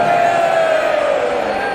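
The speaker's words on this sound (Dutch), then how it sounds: "Ik weet waarom jullie juichen." A large football stadium crowd at De Kuip roars and cheers during player introductions, a sustained wash of noise, loud and continuous with a faint whistle-like tone riding over it.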